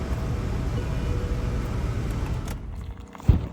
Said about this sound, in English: Oh, early morning traffic